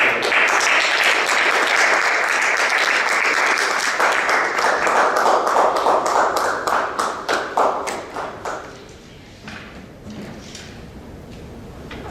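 A Toastmasters club audience applauds after a speech: loud, dense clapping that holds for several seconds, then thins into scattered individual claps and fades into a quiet room.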